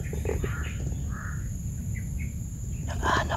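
Black birds, called wakwak, cawing in a game setting, with several harsh calls scattered through the clip and a louder burst near the end, all over a steady low ambient background.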